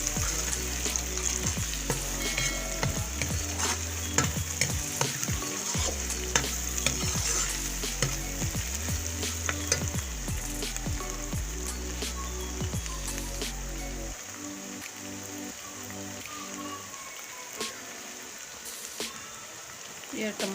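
Chopped green chillies go into a hot pan for turnip sabzi and fry with a steady sizzle, broken by repeated stirring scrapes and knocks for most of the clip, then quieter frying toward the end.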